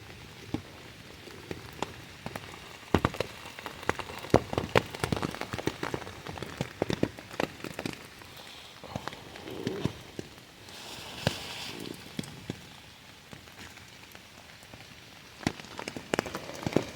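Rain patters on a tent rainfly on an Appalachian Trail thru-hike, a dense scatter of irregular close taps with sharper drops standing out, steady and fairly soft throughout with no talking.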